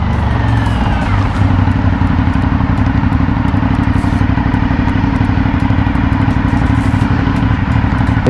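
An Aprilia Shiver 900 motorcycle engine runs steadily and loudly close by, a dense rumbling drone that stays even throughout, with no voices.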